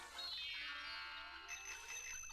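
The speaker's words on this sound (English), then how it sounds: "X lets you use the little bicycle bell" A little bicycle bell rings in the Bugs Bunny: Lost in Time video game: one bright, close ring whose metallic tone fades, with a higher tinkle joining partway through.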